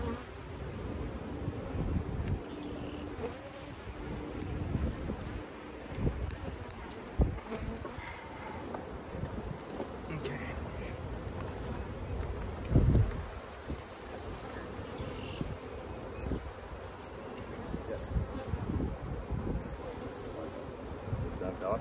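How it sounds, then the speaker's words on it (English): Honey bees buzz thickly and continuously around opened hives during a hive split, with wind and rustling mixed in and brief muffled voices nearby. "I dropped a handful of bees on the ground."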